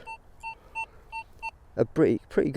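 A run of five short, evenly spaced target tones from an XP Deus 2 metal detector, clear and steady, followed by a person starting to talk.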